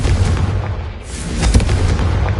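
A Confringo fire spell bursts in Hogwarts Legacy on PS5 with a loud, close boom about midway, set against a dense, rumbling game soundscape that runs throughout.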